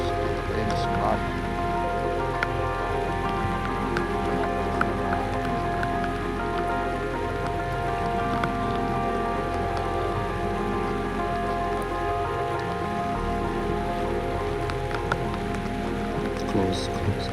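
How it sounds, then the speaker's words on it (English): Heavy rain, driven by wind, pours down outdoors in a steady, dense hiss that continues unbroken and loud throughout, with a faint voice now and then beneath the downpour. "Oh, soaking wet. The rain is mad."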